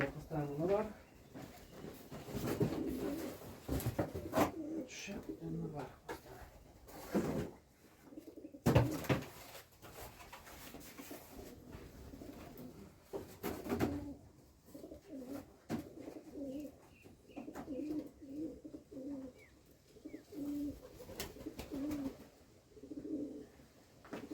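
Wood pigeon chicks coo softly and repeatedly while being rescued and fed in a village, the low murmuring calls coming in bursts up close and alternating with a person talking and handling noises.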